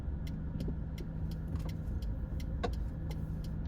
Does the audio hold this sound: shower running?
no